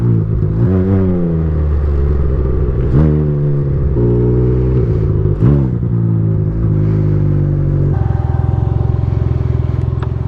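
Can-Am Ryker three-wheel motorcycles rolling in at an event, loud close engines with a low droning rumble rising and falling through several throttle blips and gear changes, steady throughout with no voices.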